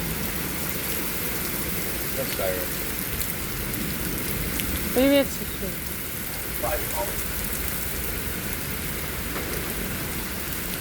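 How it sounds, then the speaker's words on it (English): Heavy rain and wind during a severe storm roar as a steady broadband wash throughout, with people talking over it and one brief louder burst midway. "It's just heavy rain and wind."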